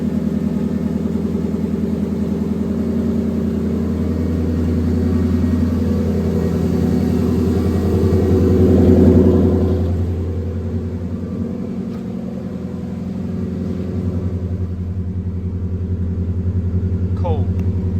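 Cold-started 700hp turbocharged Mustang Cobra running on E85, a steady loud low idle rumble that swells briefly then settles, with talking over it.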